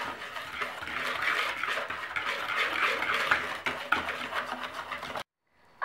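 White sugar and a pinch of salt being mixed in a bowl: continuous close scraping and rubbing of a utensil against the bowl with small clinks, steady for about five seconds before cutting off abruptly.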